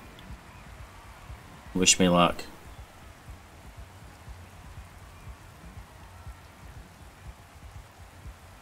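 Steady rain patter during a race in the video game GRID 2019, a constant soft hiss throughout, briefly overlaid by a short spoken phrase near the start.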